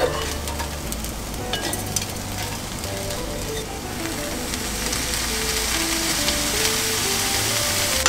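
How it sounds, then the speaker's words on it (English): Bacon and rice fry for fried rice in a pan, giving a steady, dense sizzle that stays close and fills the whole stretch with crackling hiss and faint stirring. Nobody talks. "Bacon goes in, and then the rice."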